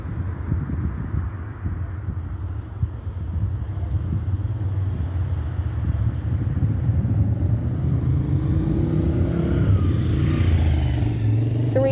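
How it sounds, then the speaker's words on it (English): Motorcycle passing on a street next to a school district crossing path, a low engine rumble under steady wind buffeting, with a rising, shifting engine tone late in the pass as it goes by. "that's a motorcycle"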